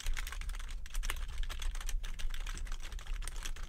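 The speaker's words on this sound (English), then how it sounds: "This is me typing" Rapid typing on a quiet Sakar Sonic computer keyboard, a continuous close flurry of soft, muted key clicks with an irregular rhythm and no speech.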